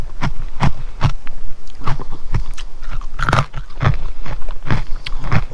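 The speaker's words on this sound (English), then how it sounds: "Can you hear the crunch?" Roast pork crackling crunches as it is bitten and chewed at a riverside campsite, with a steady series of sharp, close crunches and only faint background.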